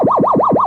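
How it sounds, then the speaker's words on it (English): Shrill, high-pitched electronic beeping from the Lunar Rescue arcade game during a descent, four quick sweeping tones that rise and fall in a steady loop, loud and alone. "When you're descending like that, on the dedicated game, that's a really high-pitched, repetitive, shrill beeping sound"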